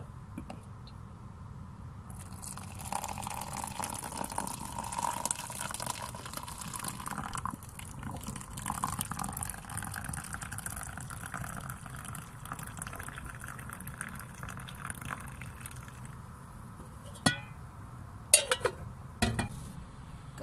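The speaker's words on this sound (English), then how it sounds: "I've got to get that hot water out" Hot water pours from a kettle in a home kitchen as a soft, steady splashing fill that runs for many seconds, followed by a few sharp clinks of crockery near the end; no one talks.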